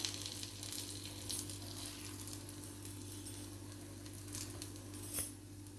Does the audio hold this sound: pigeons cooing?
no